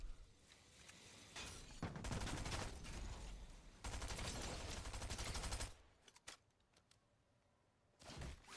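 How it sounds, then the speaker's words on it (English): Rapid bursts of gunfire from the Fortnite video game come in several loud stretches, dense and chattering like automatic weapons, with quieter gaps between volleys. "Guy still shooting me from the bush?"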